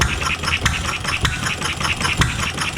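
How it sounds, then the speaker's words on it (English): An old stationary engine at a museum chugs and fires only when needed, loud irregular thumps and pops over a low mechanical rumble. "So these engines like this could run all day long on very little fuel."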